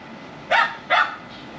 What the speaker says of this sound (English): My dogs are going off their head